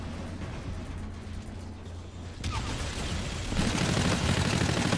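Call of Duty Infinite Warfare combat plays as a dense, continuous wash of distant rapid gunfire and explosions that swells louder partway through, with no clear single shots standing out.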